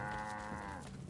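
A single cow lets out a short, drawn-out moo in Assassin's Creed 3 Remastered, heard nearby, alone and fairly quiet.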